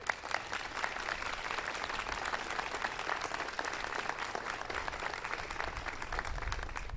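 An audience applauds Arne Duncan at a National Teacher of the Year announcement event, with dense, sustained clapping from a large crowd that holds steady throughout.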